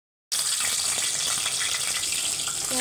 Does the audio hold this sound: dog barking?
no